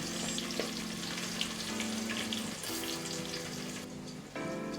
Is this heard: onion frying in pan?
yes